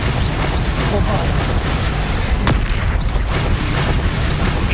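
Bombarda explosion spell in Hogwarts Legacy combat, heavy booming blasts and rumbling impacts in a dense, loud battle mix, with a voice speaking over it.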